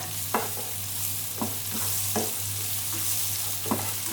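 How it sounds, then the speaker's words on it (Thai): Chopped chilies and garlic stir-fry in hot oil for a clam chili-paste dish, a steady loud sizzle broken by a few sharp spatula scrapes against the pan. "เราเอาพริกผัดกับน้ำมันแบบนี้ก่อนค่ะ"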